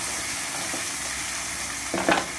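A spoon stirs black taro curry seasoned with salt and turmeric as it fries in a pan, a steady close sizzle with a few scraping strokes near the end.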